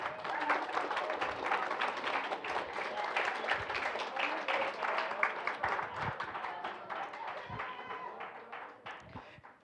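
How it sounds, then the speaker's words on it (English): A banquet audience applauds steadily, dense clapping that fills the room and stays strong before tapering off toward the end. "So if you can have a round of applause."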